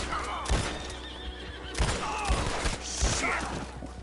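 Gunfire at a bandit camp in Red Dead Redemption 2, several close sharp shots spread across the moment, mixed with a horse whinnying and stamping.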